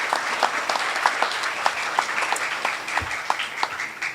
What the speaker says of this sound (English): how about you give a nice round of applause to moms, dads, grandpas, grandmas, aunts, and uncles that put you in this program.